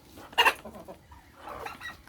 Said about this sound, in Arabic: وهو الديك ده مش بتاعنا يعني